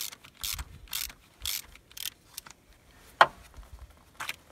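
Ratchet and socket loosening thermostat housing bolts on a 1994 Buick Regal 3800 V6, heard as several quick bursts of clicking, one short sharp snap midway and a last burst at the end, close and fairly quiet.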